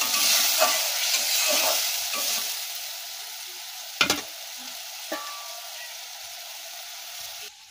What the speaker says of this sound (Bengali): এবার আমরা অল্প করে জল দিয়ে দেবো। নাড়িয়ে নেবো একটু।